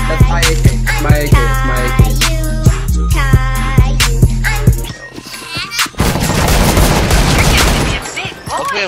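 An AK rifle fires in a video game, sounding as loud, rapid, close bursts of gunfire over a heavy music bed, followed by a sustained roar of noise and explosions.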